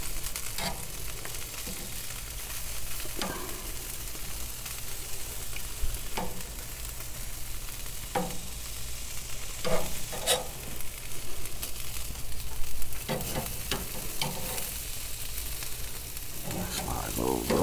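Food sizzles and fries steadily on a hot cooking surface outdoors at a Father's Day smoke cookout, a continuous crackling hiss with occasional scrapes and taps from tools shifting the food; no one speaks.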